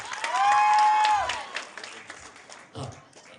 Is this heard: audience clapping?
yes